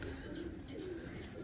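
Pigeons kept as a hobby coo softly in a low, continuous murmur, with several birds overlapping in a steady hum throughout.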